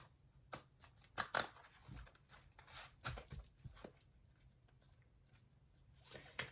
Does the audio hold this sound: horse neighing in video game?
no